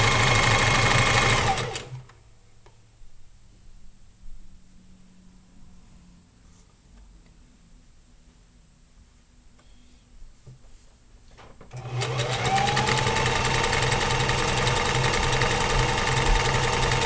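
A sewing machine runs fast and loud while stitching fabric, pauses for about ten seconds while the fabric is turned, then starts again with a steady close hum.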